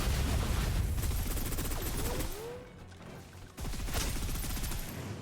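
Rapid automatic gunfire from the shooter game Snowbreak: Containment Zone, dense bursts of closely spaced shots that pause briefly, then resume loud and sustained.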